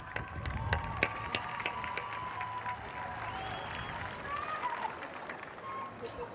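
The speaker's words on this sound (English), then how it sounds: "A big round of applause for everybody who contributed into this lip dub." Applause ripples through a crowd at a high school graduation ceremony, a moderately distant, steady clatter of many hands with some voices mixed in, holding for several seconds.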